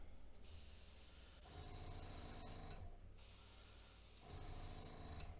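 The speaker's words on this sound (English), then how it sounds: "this is spraying pretty good" Close, steady hiss of an airbrush spraying paint, with a couple of brief pauses between bursts and a faint mechanical hum underneath.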